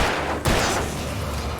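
Gunfire in the Alan Wake video game, a loud burst of shots with a sharp report partway through, thick with rumbling game ambience.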